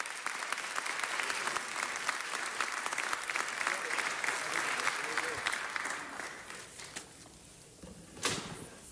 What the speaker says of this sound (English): Give Mr. Price a round of applause.